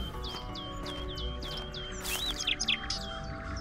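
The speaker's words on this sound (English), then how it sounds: "Birds, can you shut the fuck up?" Birds chirp in rapid repeated tweets inside the horror video game Amnesia: Enigma, a bright, steady outdoor chorus with a brief louder burst of sound midway.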